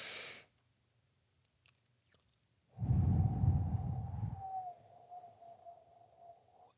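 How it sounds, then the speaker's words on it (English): A slow, breathy pursed-lip exhale in a breathing exercise, close and airy, fading into a faint lingering whistle-like tone. "that is the pursed or pucker lip breathing technique"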